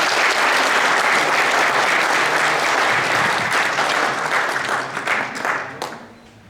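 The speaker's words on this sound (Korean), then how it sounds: "힘찬 박수로 맞이해 주시기 바랍니다" Loud, dense applause from a crowd of delegates and union members at a Korean labor union congress, sustained and even before tapering off at the end.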